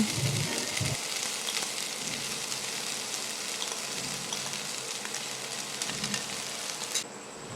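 Cashews, raisins and marinated rice fry together in a pan for Bengali basanti polau, giving a steady, loud, dense sizzle throughout with no voices.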